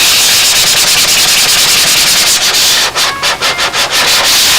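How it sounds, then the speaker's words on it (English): A sanding block with 320-grit paper rubs over the seams of a balsa model Spitfire fuselage, loud and close, a rapid run of rhythmic back-and-forth strokes with no talking. "I want to get down with a sanding block and some"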